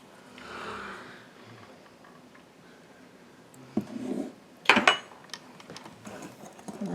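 Egg and vanilla get stirred together in a bowl for a blackberry crumble, with soft scraping and clinking of a utensil against the bowl, quiet at first and then sharper, irregular strokes close up.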